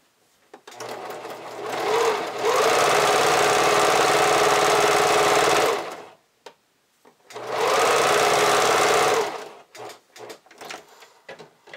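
A domestic sewing machine stitches fold-over elastic onto panties in two long, steady, loud runs of rapid mechanical whirring, separated by a short pause and followed by a few clicks and handling noises.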